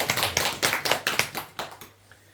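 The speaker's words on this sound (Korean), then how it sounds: "큰 박수 부탁드립니다" Audience applause at a lecture, a short burst of scattered hand claps that quickly builds, then thins out and fades within a couple of seconds.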